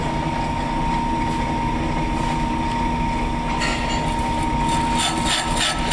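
A Harjot brake lathe runs steadily with the rotors brought in against the cutters, a constant loud mechanical drone with a sustained whine and gritty rumble, some hissing scrape rising near the end.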